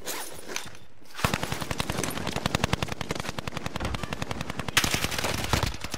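Rapid automatic gunfire in a video game, a long fast burst of sharp evenly spaced shots that runs almost continuously after a brief pause and stays loud and close.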